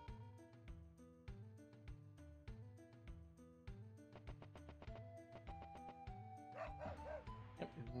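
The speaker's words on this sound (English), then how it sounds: "That dog really does not want us to go after that treasure chest" A dog barks repeatedly in the video game Wild ARMs, sharp yips and bow-wows over looping game music at moderate volume.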